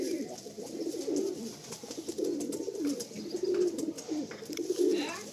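A Madrasi pigeon coos close by in repeated low, throaty phrases that roll on one after another, with faint background noise.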